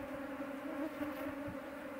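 Faint, steady buzzing of many honeybees leaving a split hive in an apiary, a soft continuous hum with slight wavering pitch.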